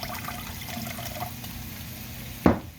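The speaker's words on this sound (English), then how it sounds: "we're going to put in about a tablespoon of this" A tablespoon of rice cooking wine is poured into a stir-fry sauce for ground turkey, making one brief, close splash over a steady kitchen background hum.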